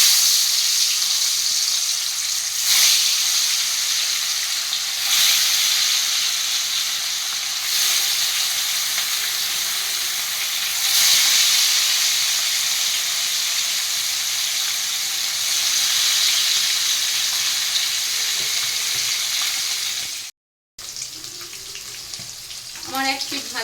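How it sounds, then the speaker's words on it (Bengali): Pieces of katla or rui fish fry in hot oil for a Bengali fish kalia, giving a steady, close, loud sizzle with a few brief louder bursts, broken by a short gap near the end. "মাছগুলো এবারে একটা একটা করে আমি ভেজে নিচ্ছি।"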